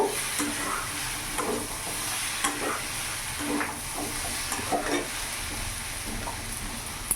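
Banana flower and prawns frying in ghee while being stirred in a pan, giving a continuous hissing sizzle with faint scraping strokes mixed in, close up and fairly quiet, no one talking.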